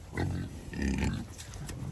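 A pig grunting and oinking close by in a farm pen among other feeding pigs, low rough snorts in two short bursts over a steady background.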